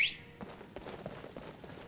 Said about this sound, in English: Oh, that was my horse whistle.